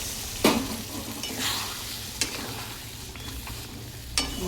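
Hot water poured into a sizzling curry in a pan brings a continuous frying hiss with a few sharp stirring knocks and scrapes spaced through it, close by and with no voices.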